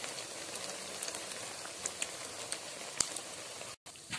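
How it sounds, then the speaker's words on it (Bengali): Fritters made from leftover khichuri deep-fry in oil, giving a faint, steady sizzle with scattered small pops and crackles, quiet and without voices, breaking off briefly near the end. "বড়াগুলো আমার লাল লাল করে ভাজা হয়ে গেছে"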